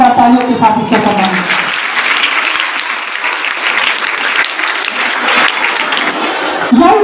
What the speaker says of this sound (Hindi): हम सब जोरदार तालियों के साथ इसका सम्मान